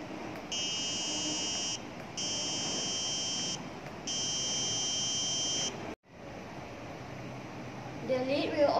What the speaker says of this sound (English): The function of the RGB LED and buzzer are that they will light up and make a continuous sound as long as the lid is open.